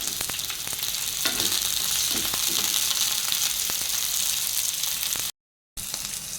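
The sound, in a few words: onion and green chilli frying in oil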